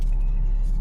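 A car engine idles steadily while warming up before a drive, a close, constant low rumble filling the brief moment with no talk.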